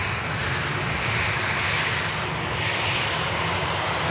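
An Emirates airliner at Manchester Airport gives off a loud, continuous roar of jet engines, steady and close, with no voices over it.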